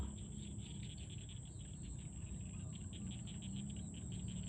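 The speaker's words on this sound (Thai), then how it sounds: "บรรยากาศก็จะมีเสียงกบเสียงเขียบ สบายๆแบบนี้แหละนะครับ" Frogs call in a backyard at night, a faint, steady pulsing chorus that continues without a break and has no talk over it.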